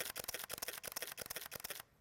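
Nikon D610 DSLR firing continuously in quiet shutter mode at about 3 frames per second, a rapid run of soft mechanical clicks and clacks close to the microphone that stops abruptly.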